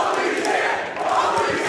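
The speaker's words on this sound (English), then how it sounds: "the crowd are chanting something that should never be chanted in a school gymnasium" A wrestling crowd in a school gymnasium chants in a rough rhythmic roar, steady and fairly loud, filling the hall.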